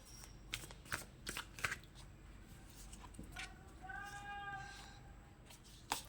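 Tarot cards being shuffled close up in quick papery riffles and slaps across the first half, then a voice speaking softly over the background.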